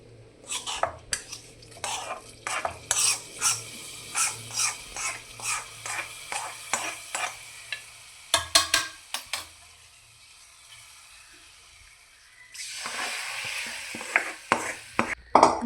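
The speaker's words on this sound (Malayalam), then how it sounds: "നല്ലതായിട്ടൊന്ന് ഇളക്കി കൊടുക്കാം ഇങ്ങനെ" Erissery curry being stirred in a pot, a series of rhythmic scraping clinks of a spoon against the pot, a pause, then a soft sizzle returning near the end.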